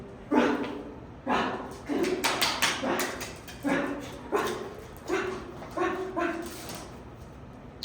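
A dog during mouthing-behaviour training gives a run of about nine short, evenly spaced barks and whimpering yips, close and fairly loud, with faint background noise between them.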